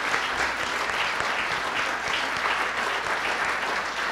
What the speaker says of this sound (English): Thank you all for your warm and welcoming applause.